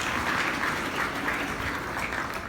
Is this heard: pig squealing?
no